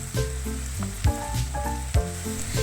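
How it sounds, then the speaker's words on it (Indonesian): A spice paste of garlic, candlenut, kencur and turmeric sizzles steadily in a pan, with periodic scraping knocks of a spatula stirring it at close range. "Ini kita tumis sampai bener-bener harum ya, supaya nggak ada bau langu"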